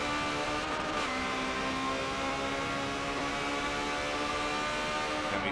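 Ferrari 360 Challenge Stradale race car accelerating hard during a cup race at Hockenheim, a loud continuous engine whine climbing steadily in pitch, close and alone with no talk.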